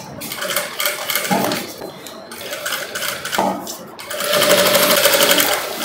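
Sewing machine stitching around the neckline of a long gown, a fast steady whir that runs in bursts with brief pauses and small metallic clicks, close and fairly loud.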